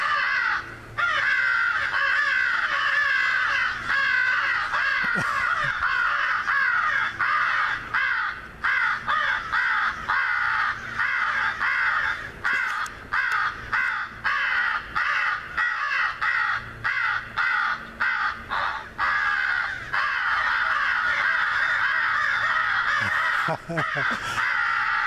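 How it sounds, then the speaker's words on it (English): Crows caw continuously from a large flock nearby, with many overlapping harsh calls layered throughout, while someone talks over them at times. "gotta see all these crows."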